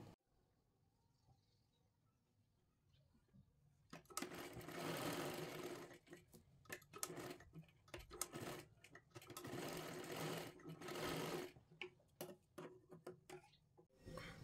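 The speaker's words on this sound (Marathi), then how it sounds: "2 वेळा शिलाई मारून घ्यायची आहे." A sewing machine stitches a princess blouse in bursts of fast, steady mechanical running that start and stop several times, loud and close, with brief pauses between runs.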